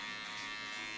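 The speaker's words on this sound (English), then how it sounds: "I always like to put my shaver from up and down." Electric shaver buzzing steadily at close range while trimming hair above the ear during a drop skin fade haircut, a continuous bright hum with no talking.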